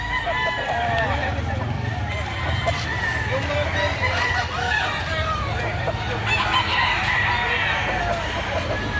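Roosters crow over and over amid clucking poultry at a busy chicken market in Lipa City, Batangas, a dense layered chorus of near and distant calls with people talking in the background.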